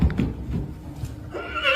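A horse neighs in short bursts, with a clear whinny rising toward the end and faint hoof sounds underneath, fairly close and moderately loud.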